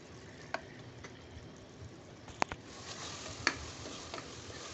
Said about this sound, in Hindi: इसके बाद हमने कीमे को अच्छी तरह से भूनना है इसके अंदर